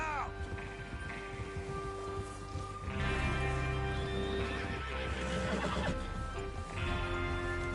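Horses whinny and hooves clip-clop in the western game Red Dead Redemption 2 as riders prepare for a train robbery, with several neighs rising over steady hoofbeats and a low background tone, alongside talking voices.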